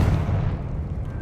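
A Confringo spell bursts in Hogwarts Legacy on PS5, a loud, close, rumbling low-frequency blast that fills the moment with a dull roar and no voices.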